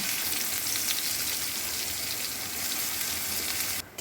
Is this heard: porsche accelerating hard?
no